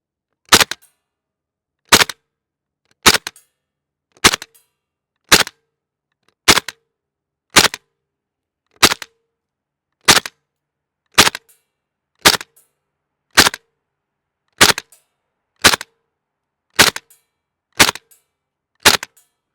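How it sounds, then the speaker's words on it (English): An airsoft gun fitted with a night vision scope firing BBs, about sixteen sharp, loud, close single shots at a steady pace of roughly one every 1.2 seconds, with near silence between them. "All right, let's take some shots here, shall we?"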